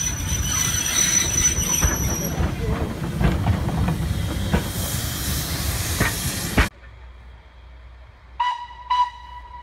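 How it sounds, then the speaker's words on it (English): The locomotive Martello hauls a 20 ton brake van along the Nursery Railway with a close rumble of wheels, hiss and squeal that cut off suddenly, followed by two short high tones. "Now approaching us is the 20 ton brake van which Martello is giving brake van rides in"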